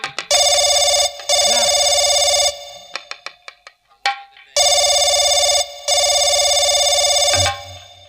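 A telephone rings in long electronic bursts with short pauses between them, loud and close, during a Bhojpuri nautanki folk stage performance, with no voices over the ringing.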